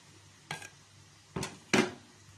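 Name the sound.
onions being stirred and sautéed in a pan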